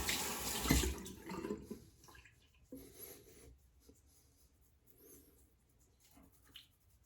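Water from a sink tap runs in brief splashes as hands are wetted after shaving, with a louder burst early on and softer trickles and rubbing sounds after it, heard close by.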